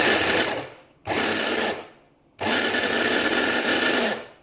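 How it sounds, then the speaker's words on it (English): A small motorized mini food processor chopper whirs in three bursts, two short and one longer, each stopping abruptly with brief quiet between. "These kind of immersion blenders with the food processor, mini size chopper, whatever, is very helpful"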